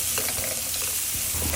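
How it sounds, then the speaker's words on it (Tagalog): Garlic and onion sautéing in a pan, a continuous close sizzle of frying with soft scraping and stirring sounds over it. "Igisahin natin mabuti ang ating bawang at sibuyas."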